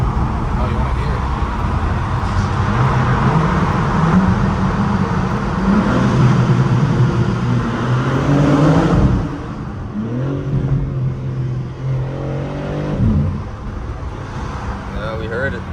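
A 523-horsepower car engine revs hard, its rising and falling harmonic tones repeating up close across the clip while voices talk over it.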